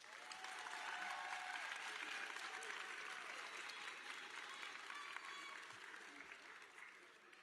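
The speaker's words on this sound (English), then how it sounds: "Please join me in giving them a round of applause." Sustained applause from a large graduation audience at Collinwood High School, steady and dense for the whole stretch, with faint voices mixed in beneath the clapping.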